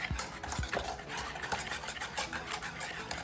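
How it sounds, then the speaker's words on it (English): A spoon stirs chocolate chip cookie dough in a bowl, giving repeated scraping and clinking strokes at a steady, close rhythm with no talk. "stir it for 30 to 40 seconds, and then come back and do it all over again"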